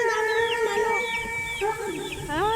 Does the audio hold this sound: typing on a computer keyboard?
no